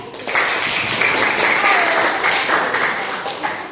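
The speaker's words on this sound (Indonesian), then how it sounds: "Oke, kita beri tepuk tangan untuk Mbak Anggi." A classroom audience applauds steadily throughout, a dense wash of clapping from many hands with a faint voice or two mixed into the noise.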